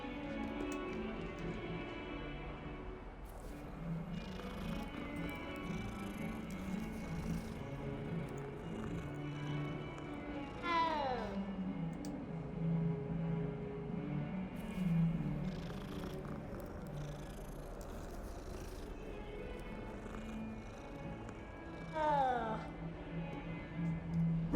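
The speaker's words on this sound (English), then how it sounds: "Ooh, we got a cat." A cat in the game Hogwarts Legacy, with a low continuous purr and a couple of rising meows spread over about twenty-five seconds, under faint game ambience.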